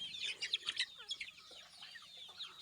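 Desi village chickens pecking at fenugreek grass on a farm: a steady, fairly faint chatter of soft clucks and high chirps from several birds, with no voices.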